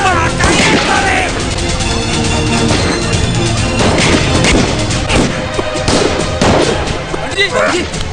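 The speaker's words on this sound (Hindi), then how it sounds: "गोली चला दे रहा हूं" Gunfire erupts during a violent mob attack in a 2003 Bollywood action film, loud bangs and crashes layered over dense music and shouting, sustained and chaotic throughout.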